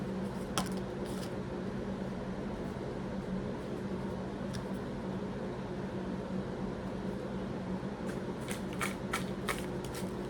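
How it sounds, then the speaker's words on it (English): Tarot or oracle playing cards being shuffled in short riffling bursts, near and soft, separated by a long pause over a steady low hum. "So I'm just shuffling."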